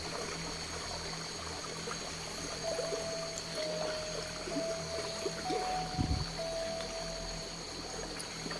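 River water flows and trickles steadily in a continuous wash, close and fairly quiet, with a faint thin whistle-like tone drifting over it and a brief low knock partway through.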